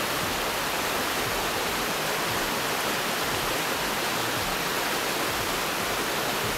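A creek runs beneath autumn leaves along the Appalachian Trail, giving a steady, even rush of water with no breaks and no voices.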